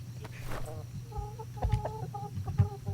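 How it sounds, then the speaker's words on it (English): A chicken clucks in a seafaring survival game, a few short, soft repeated clucks over a low ambient hum, with no talking. "There's a chicken."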